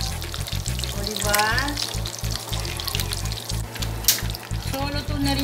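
Smoked fish (tinapa) crackles and sizzles loudly in a pan of hot oil, a dense close sizzle with popping bursts while a person talks over it.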